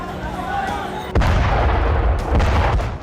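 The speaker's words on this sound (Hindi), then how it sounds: "जबालिया में घरों पर बम बरसाए" A bomb explodes on houses in Jabalia, Gaza, with one sudden heavy boom and a rumbling tail, then a second, duller blast, over a distant background murmur.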